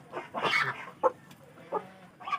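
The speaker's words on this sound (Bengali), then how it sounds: "আমার মুরগিগুলো খুবই দুষ্টু" Chickens on a small home farm clucking in short, close bursts, with a few sharper calls separated by brief pauses.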